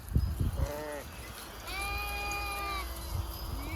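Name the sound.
sheep bleating in a flock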